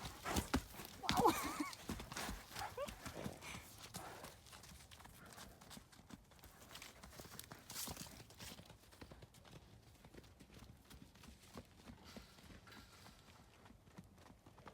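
Horses in a paddock walk with irregular hoof clip-clops, strongest at the start and then softer and scattered, moderately close in an open outdoor space.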